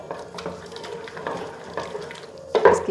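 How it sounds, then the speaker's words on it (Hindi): Spiced turnips mashed in a pot with a wooden masher, giving soft irregular squelching and knocking strokes that grow louder near the end, with no talking. "ये है मेरे पास घोटना, इसकी मदद से आप अच्छी तरह से मिक्स कर लें, इनको घोट लें।"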